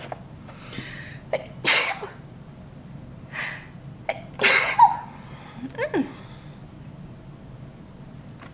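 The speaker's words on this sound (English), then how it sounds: "I'm going to sneeze." A few quick breaths build up before a sharp, close sneeze, followed by a second burst and some sniffing and breathing.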